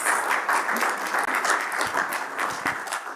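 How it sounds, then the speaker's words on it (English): A conference audience breaks into steady, dense applause, many hands clapping together at a constant level for the whole stretch. "A round of applause."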